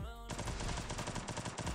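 Gunfire in a Portuguese-language multiplayer shooter match: after a short tonal sound, a rapid burst of automatic shots rattles on in a fast even rhythm, loud and dense.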